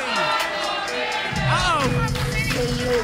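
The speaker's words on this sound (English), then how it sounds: "The crowd not satisfied with this match. The crowd wants 5 more minutes." Crowd at a New South Pro Wrestling match chanting and shouting together, a rising wave of many voices that swells into loud rhythmic calls.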